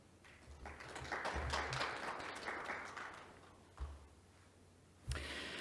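An audience claps at a symposium on Gyeonggi Province's essential severe-care pre-hospital programme. The dense applause swells over the first seconds, fades gradually, then a louder burst rises near the end.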